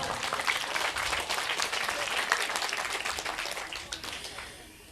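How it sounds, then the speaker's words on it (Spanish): A church congregation applauds during a Quechua-language service, a dense, fairly faint wash of clapping with some voices underneath that thins out toward the end. "Aplauso al Señor."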